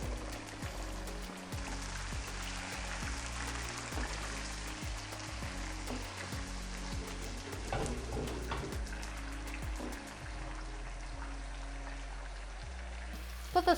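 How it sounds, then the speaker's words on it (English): Lamb meat fries in a hot pan with a steady, dense sizzle and spatter that runs continuously, close and moderately quiet, with no talking. "When you put the meat, it can spatter."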